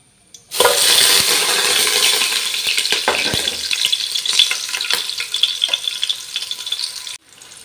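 Loud close sizzling as onion, cinnamon and cloves hit hot oil in a pan, with a few sharp clinks of a spoon against the pan as the frying gradually settles into a steady crackle.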